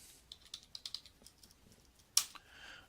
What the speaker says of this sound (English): And I'll type in 2018 budget analysis.